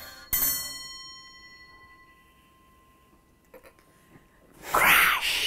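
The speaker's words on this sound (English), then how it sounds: "Can I ring the bell?" A bell on a Leech barometer is pulled and struck once, ringing out with a long, slowly fading tone, followed after a pause by a few light taps and then a loud crash near the end.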